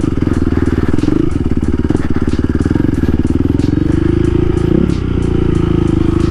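Supermoto or sport bike motorcycle ridden hard on roads out near Marble Falls, a loud, steady engine drone with rising and falling revs, wind buffeting and occasional clatter throughout.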